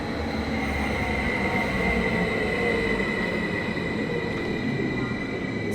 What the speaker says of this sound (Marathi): आता तुम्हाला युरोपची ट्रेन दाखवतो कशी आहे